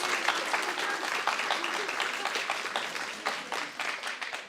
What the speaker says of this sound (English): One final applause, please.